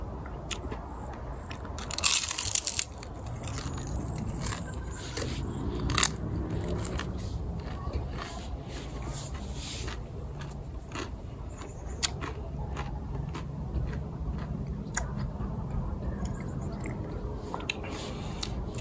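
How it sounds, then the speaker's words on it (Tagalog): Someone crunching and chewing crispy kangkong (water spinach) chips up close, with a louder bite near the start and then steady, uneven crunching that continues throughout, outdoors in a vegetable garden. "Try natin itong kangkong chips kung crunchy pa."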